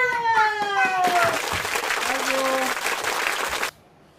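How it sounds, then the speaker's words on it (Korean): Family members clap together at home after a child's high, sung-sounding voice, the claps forming a steady burst of about three seconds that stops abruptly. "자, 예! 박수!"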